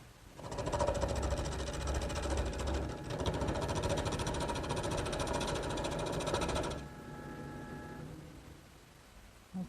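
A wood lathe spinning a long, thin chair finial blank fitted with a steady rest, a steady close whirring drone with a brief dip partway, then the motor winding down to a quieter hum near the end.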